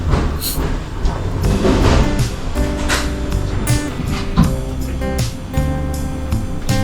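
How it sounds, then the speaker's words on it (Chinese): A small purple Randen tram in Arashiyama, Kyoto, rumbles along a street with steady rolling noise, metallic clatter and brief squeals, fairly close and continuous. "紫色的小火车就在路面上这样子跑。"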